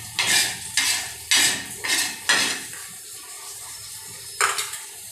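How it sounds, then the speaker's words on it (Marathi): Dry coconut roasting in a pan, stirred with a metal spoon that scrapes and clinks in about five distinct loud passes, separated by short quieter gaps, plus one final stroke near the end. "थोडासा कचक चांगल्यापर्यंत भाजू। सुकं खोबरं झाले।"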